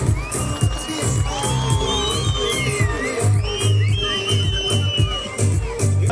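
A crowd at a ski festival in Van cheers and claps loudly, with children shouting and whooping over a dense, lively hubbub that swells and dips.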